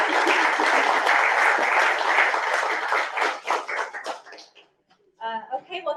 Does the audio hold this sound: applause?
yes